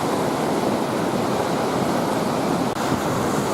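Lake Superior waves breaking against the battered sandstone rocks of the shoreline at Pictured Rocks, a steady, loud, dense roar of surf and wind with no distinct individual crashes.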